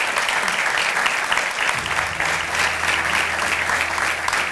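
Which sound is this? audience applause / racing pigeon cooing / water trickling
audience applause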